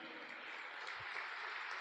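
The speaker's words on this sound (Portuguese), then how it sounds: "Essa salva de palmas aí bem bonita." A crowd claps steadily, a dense, even wash of applause sustained throughout at moderate volume.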